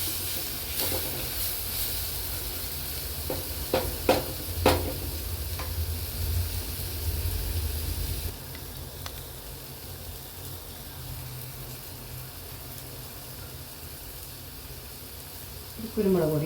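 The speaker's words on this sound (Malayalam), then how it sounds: "കല്ലുമ്മക്കായ ഇട്ട് കൊടുക്കാം." Mussels fry in a pan with tomato masala, a steady close sizzle and hiss with a few sharp clinks of a utensil early on and quieter frying afterward.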